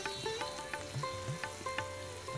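Chopped onion and ginger fry in a pan, a steady close sizzle broken by regular soft scrapes of stirring.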